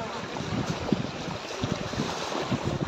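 A boat crosses open water toward Digha, its ride a rushing blend of wind buffeting and splashing waves, loud and continuous with no clear talk.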